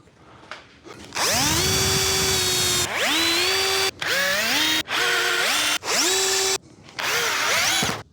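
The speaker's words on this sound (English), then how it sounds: "drill into these ends here" A power drill whirs loudly in several bursts, drilling into the ends of garage shelving, its pitch rising as each run spins up, with brief pauses between them.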